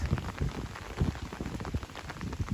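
Steady rain pours through the night outdoors, a dense, continuous patter of drops on surfaces with soft thumps layered throughout, heard close and fairly even without any voices.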